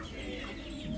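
Chickens cluck softly inside a coop on a rainy day, a continuous low murmur of hen chatter that stays fairly faint and steady with no voices over it.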